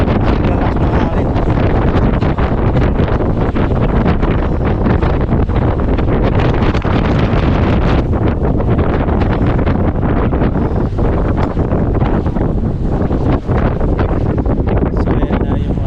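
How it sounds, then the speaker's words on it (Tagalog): Strong wind roars and buffets the microphone aboard a ferry crossing Sydney Harbour, a loud constant rush that drowns out the boat beneath it. "Ang lakas ng hangin."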